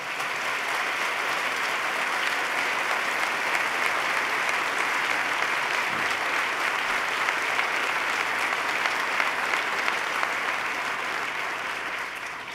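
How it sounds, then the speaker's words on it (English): Large crowd at a State of the State address giving sustained applause, a thick, even roar of clapping that stays strong for the full stretch with no speech over it. "Let's give Ben Lieberman a round of applause."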